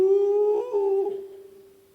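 A voice imitates a dog howling at night with one long sustained, slightly wavering tone that dips midway and then fades slowly.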